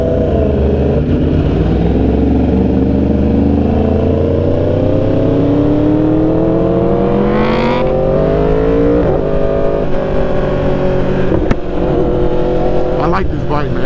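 A Yamaha R1 sport bike roars loudly and continuously on a night ride, its engine note rising and falling through gear changes with sharp pops and crackles near the end.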